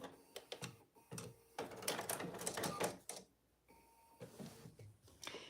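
A sewing machine running back and forth to reinforce stitches on a fabric oven mitt, quiet mechanical whirring and ticking in short bursts with brief pauses, fairly faint and close.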